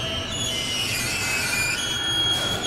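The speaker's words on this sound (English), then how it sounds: "On average, 5 trains with 4 wagons use this railway line every day." A freight train with four wagons rolls through an underground tunnel, giving a steady, loud rumble with high metallic wheel squeal running throughout.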